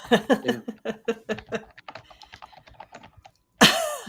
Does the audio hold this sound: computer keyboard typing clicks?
yes